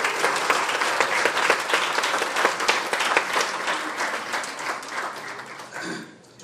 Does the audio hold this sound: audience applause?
yes